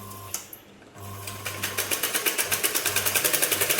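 A sewing machine stitches a cross strip on a blouse, first a short whir and pause, then a fast, even run of rhythmic needle clatter, close and fairly loud, with no voices.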